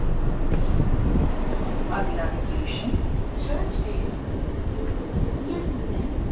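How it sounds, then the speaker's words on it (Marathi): Steady broadband rumble of a moving Mumbai suburban train carriage from Borivali to Churchgate, loud and continuous, with faint squeals and clatter over the roar. "आता आम्ही बसलो ट्रेनमध्ये बोरिवलीवरनं"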